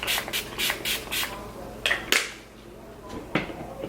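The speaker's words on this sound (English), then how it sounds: "I've been using the Coconut Essence Hydro Mist from Pacifica, and I just spray a little." Pacifica Coconut Essence Hydro Mist setting spray misted onto a face in a quick run of about five close, hissing pumps, then a few more scattered spritzes after a pause.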